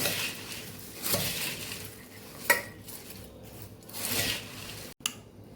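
Jhal muri, puffed rice tossed with lemon and spices, being mixed in a bowl, giving soft dry rustling and light clinks of a spoon against the bowl in a few bursts, no talking.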